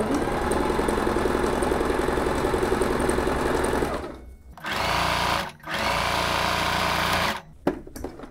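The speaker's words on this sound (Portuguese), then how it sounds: "vou fazer um pesponto bem aqui na beiradinha da minha tira" A sewing machine topstitches along the edge of a fabric strip for a children's dress, running in a loud, steady whir for about four seconds and then in shorter stop-and-start bursts.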